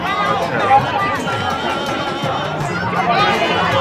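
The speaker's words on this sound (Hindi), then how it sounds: "देख कितनी भीड़ है।" Dense crowd chatter fills the entry gate of the Vaishno Devi pilgrimage route, a steady hubbub of many overlapping voices, close and continuous for the whole stretch with no single voice standing out.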